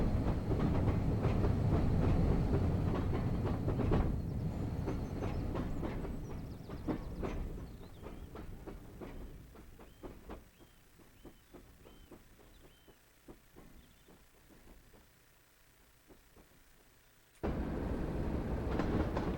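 A train on the West Somerset Railway in Train Sim World rumbles loudly, then its clickety-clack fades steadily as it pulls away into the distance, leaving near quiet before a loud noise returns abruptly.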